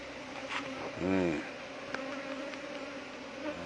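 Bees buzz in the background, one passing close with a brief louder drone before fading back into a low steady hum.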